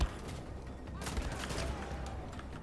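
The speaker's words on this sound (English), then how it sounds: "who else is shooting me?" Gunfire from the video game Wolfenstein: The Old Blood crackles in rapid, overlapping bursts, a dense fusillade of shots running steadily through the whole stretch at moderate loudness.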